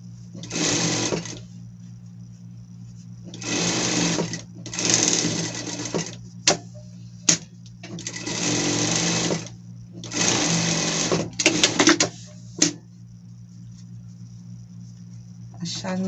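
Sewing machine running a safety seam over pet clothing fabric, several short whirring bursts of stitching separated by pauses and a few sharp clicks, close and clear.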